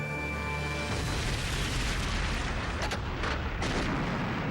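Sustained, loud rumble of artillery fire from the 1941 Royal Artillery stand at Kampar in Malaya, with a broad continuous roar and a few sharper bursts toward the end, no voices.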